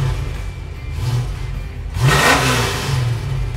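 A 1972 Chevelle SS 454 V8 idles with a low rumble, then revs hard around the two-second mark, a loud roaring burst that settles back to a throaty idle.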